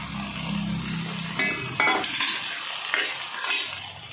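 Parboiled mutton liver pieces tipped into frying tomato masala and stirred, with metal spoon scrapes and clinks against the pan over a soft sizzle, close up and without talk.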